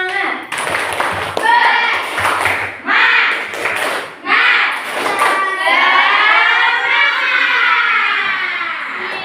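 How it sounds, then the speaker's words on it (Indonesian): Classroom students performing a rhythmic spirit-clap ice breaker, a run of loud group claps in patterned bursts with children's voices and shouting mixed in, followed by a sustained stretch of loud chanting or cheering. "Tepuk semangat"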